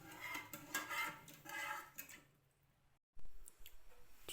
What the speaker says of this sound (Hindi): इसको अच्छी तरह से स्टर करूँगी